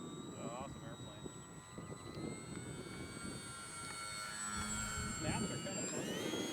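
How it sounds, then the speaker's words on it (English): An RC model airplane hovers and flies in gusty wind, its engine drone whining steadily and rising near the end, heard over wind noise with a voice talking at times. "It's an awesome airplane."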